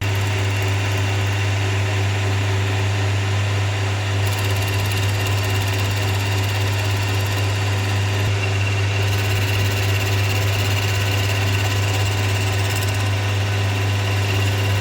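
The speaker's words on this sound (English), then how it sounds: "He has to change the bits on the lathe so that he can do it just right." Wood lathe turning a wooden wheel, a steady loud motor hum with a strong low drone and constant whirring, unbroken for the whole stretch.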